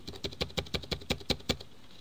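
Typing on a computer keyboard while entering an axis label in a Microsoft Excel spreadsheet: about nine crisp, evenly spaced key clicks close up, then a short quiet gap at the end.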